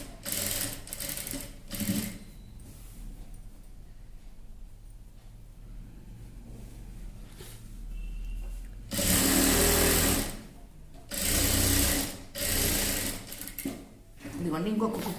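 Sewing machine stitching a girl's frock, with loud bursts of steady mechanical whirring that start and stop several times, separated by quieter gaps of handling noise and faint talk.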